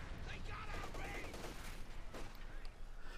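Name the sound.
ammunition cooking off in Company of Heroes 2, a video game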